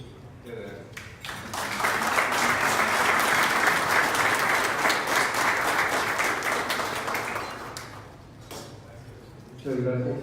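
An audience at a talk on the accusatory criminal justice system claps in a sustained burst of applause that swells and then fades, with a voice speaking before and after.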